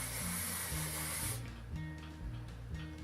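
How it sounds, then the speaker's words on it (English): Hairspray hisses from an aerosol can onto a vintage wet set in one steady, close burst lasting over a second, then cuts off, leaving a low background hum. "now we're just going to spray this again"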